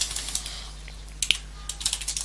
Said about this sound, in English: my typing skills are amazing